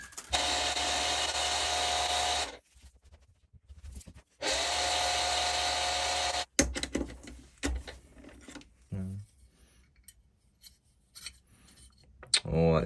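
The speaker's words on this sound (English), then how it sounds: "So let's just clean it up a wee bit with a file and some sandpaper." A file rasps against the metal depth stop of a plough plane in two long, steady strokes, followed by quieter scraping, tapping and handling noises in a workshop.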